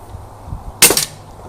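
A single sharp crack from an Air Arms S200 air rifle firing a pellet, close and loud, a short burst after a quiet lull with faint background noise.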